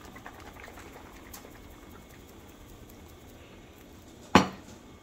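Metal pot of boiled macaroni shaken once in a kitchen, a single sharp clattering rattle near the end standing out over faint quiet background noise.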